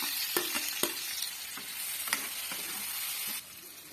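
Previously fried pieces go into a hot pan for a brinjal gravy, followed by an oily sizzle and several sharp scraping stirs of a spatula. The sizzle fades abruptly near the end.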